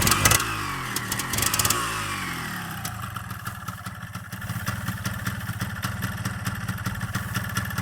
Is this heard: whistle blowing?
no